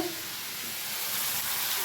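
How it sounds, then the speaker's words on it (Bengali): Chopped potato and pointed gourd frying in a pan give off a steady, broad sizzle that stays even and moderately loud throughout, with no voices. "এই যে আলু আর পটল কুচিয়ে ভাজা"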